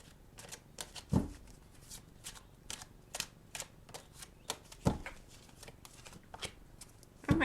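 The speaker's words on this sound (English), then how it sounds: "Let me pick one more from the Unicorns deck." An oracle deck of unicorn-themed cards is shuffled by hand, with soft, quick riffles and papery snaps in an uneven rhythm, close and quiet, with a few louder taps.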